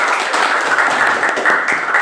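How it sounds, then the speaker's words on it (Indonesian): Applause for a student named Evi in an Indonesian classroom lesson, a steady patter of clapping from a group of pupils lasting the whole moment, fairly close and even. "Tepuk tangan untuk Evi."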